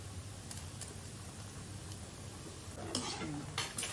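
Shankarpali pieces frying in hot oil are stirred with a metal spoon, faint scraping and clinks against the pan over a soft steady sizzle, growing a little busier toward the end.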